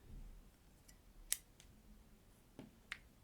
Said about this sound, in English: let's cut off the yarn here